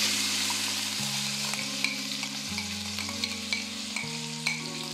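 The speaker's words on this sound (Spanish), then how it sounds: "ya se derritió la manteca. Ahora le voy a poner la cebolla" Onion goes into hot melted lard in a pan, with a steady frying sizzle and occasional faint stirring taps against a background of tonal music, without talk.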